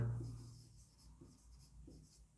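Chalk or a marker scratches across a board while a trigonometry lesson is worked out, soft, close strokes in a quiet room with no talking.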